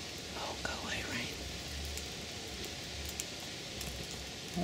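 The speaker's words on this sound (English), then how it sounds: "Oh, go away, rain." Light rain falling outdoors at a campsite where a fire is being lit with birch bark, a soft continuous hiss that stays faint and even throughout, with a brief murmur of voice near the start.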